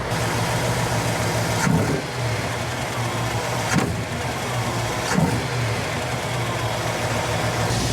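A Jeep CJ-7's AMC 304 V8 engine with a mild cam idles with a deep steady rumble, then revs sharply three times in quick bursts before settling back, close and loud.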